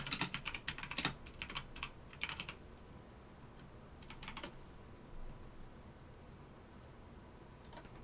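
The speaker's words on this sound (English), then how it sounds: "If I can type," Bursts of typing on a computer keyboard, close and fairly quiet, with clustered rapid key clicks in the first few seconds, then sparse short flurries separated by pauses over a low background hiss.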